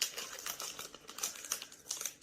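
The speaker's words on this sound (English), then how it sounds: "I'm going to open this with scissors just so that I don't accidentally rip it down the center." Scissors cut open a plastic bag of crushed cookies with quiet, close crinkling and snipping in short irregular bursts over about two seconds.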